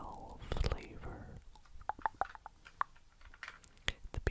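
Wrigley's Extra Refreshers tropical flavor gum chewed close to the mic, soft wet squishes and clicks in an uneven rhythm after a brief whisper at the start.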